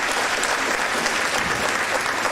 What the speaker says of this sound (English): Let's give the chapter degree recipients a round of applause.